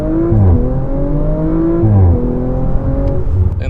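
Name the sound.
2018 Audi RS5 V6 engine accelerating from a stop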